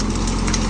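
A VST 922 mini tractor engine drives a PTO-operated bed-forming farm implement, a loud, steady, close diesel rumble with a constant low throb and no voices.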